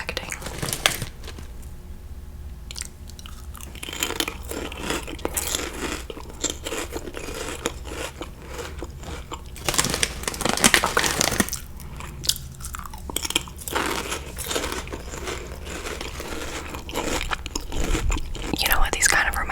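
Close, crisp crunching and biting of cheese-flavoured British snack crisps, repeated chews in bursts with quiet pauses and occasional soft speech between bites.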